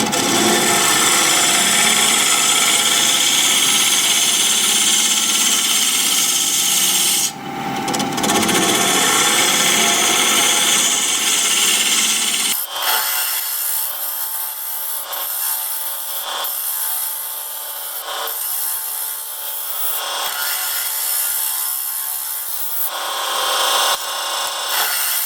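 A 1/2 inch bowl gouge cuts wood on a lathe turning at 1,000 RPM, producing a loud, continuous close scraping hiss that changes tone partway through, with light tapping and rubbing heard near the end.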